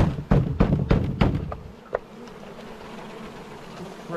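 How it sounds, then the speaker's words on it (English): Honey bees buzz around an open hive in Alaska, with a close, steady swarm hum, several heavy thumps early on, then a quieter continuous drone. "Oh, bees on me."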